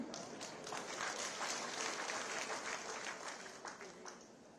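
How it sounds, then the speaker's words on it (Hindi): Audience applause at a Himachal Pradesh chief minister's public event, men in the crowd clapping; steady, dense clapping sustained throughout at moderate distance, with no distinct speech over it. "इसलिए मैंने कहा पुरुषों तुम भी ताली बजाओ भाई"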